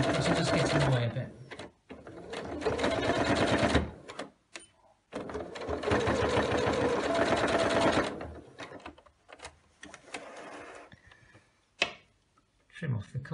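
A sewing machine stitches elastic onto a cloth face mask in long steady whirring runs broken by short pauses, heard close up, with a person talking at times.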